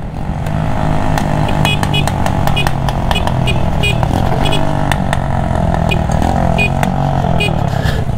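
A loud motorcycle with a broken exhaust idles and rumbles roughly with a harsh, rattly exhaust note and sharp popping crackles throughout.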